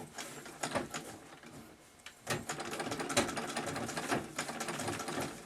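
A Singer 66 sewing machine stitching, its rapid mechanical clatter running in bursts with a short pause partway through, close and fairly loud with no talking.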